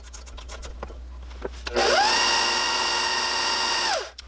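An electric hand mixer whirs steadily as it mixes cookie dough in a bowl, starting up after faint scraping and running at a constant high pitch for about two seconds before winding down.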